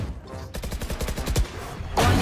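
Rapid bursts of automatic gunfire crackle in a Valorant match, a dense rhythmic string of close shots followed by a louder blast at the end.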